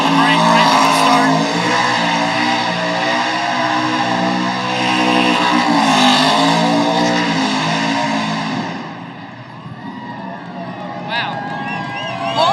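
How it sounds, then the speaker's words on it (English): A NASCAR stock car doing a burnout on the Las Vegas Strip roars loudly with a steady, sustained engine drone and tire squeal for about nine seconds, then fades. A crowd and commentators talk underneath throughout. "That's an A+ standard burnout, is what I call that."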